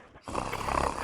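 A man snores while asleep, giving a single rough, rattling inhalation that starts abruptly after a brief quiet moment, close and fairly loud.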